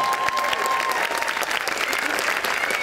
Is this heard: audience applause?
yes